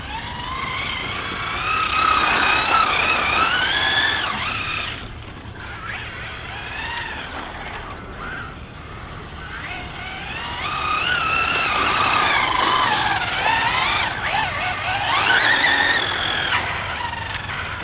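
A Maverick Quantum R Flux drift RC truck running on a 3S battery, with a high electric motor whine that rises and falls as it accelerates and slows in several long passes.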